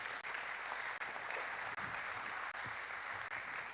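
Steady applause from an audience, a dense wash of clapping that holds at an even level throughout with no talking over it.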